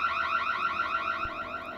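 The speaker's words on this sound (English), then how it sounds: "The home security system was blaring." A home security alarm blares in a rapid, repeating electronic warble, steady and unbroken throughout.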